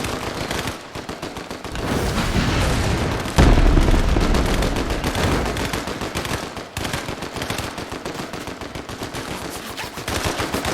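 Rapid bursts of automatic gunfire from the video game Fortnite rattle loud and close almost continuously, with a heavier blast near the start of the barrage.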